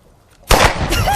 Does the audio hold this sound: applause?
no